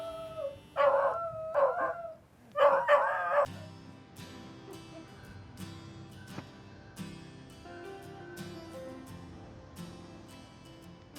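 A dog barks and howls in two loud bursts early on, then quieter music-like tones carry on with occasional faint yips.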